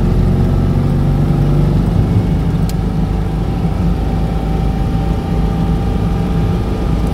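A Mazda 323F drives on a test drive, heard from inside the cabin as a loud, steady engine hum and road rumble that holds an even level throughout, with no talking.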